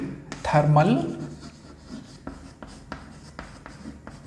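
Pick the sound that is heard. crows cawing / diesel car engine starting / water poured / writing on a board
writing on a board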